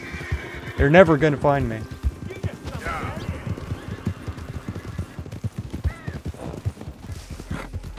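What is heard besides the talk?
Morgan stallion horse neighing and hooves, Red Dead Redemption 2 video game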